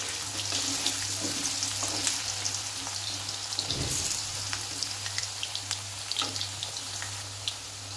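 Cut potatoes fry in refined oil in a hot wok, a steady soft crackling sizzle with scattered pops and a faint stir near the middle, fairly quiet and with no one talking.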